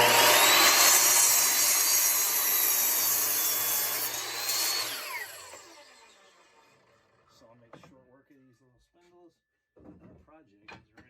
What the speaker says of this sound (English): Got our 45-degree angle working on our miter saw.